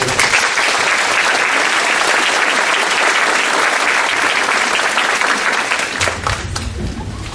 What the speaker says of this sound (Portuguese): peço desde logo uma salva de palmas para a nossa palestrante